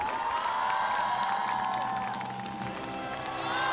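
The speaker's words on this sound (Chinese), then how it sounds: "让我们掌声有请高光之夜主持人" A television gala audience, the 2021 Treasure singer highlight night, greets the host with steady crowd cheering and applause, a dense continuous roar that holds loud for several seconds with scattered whoops.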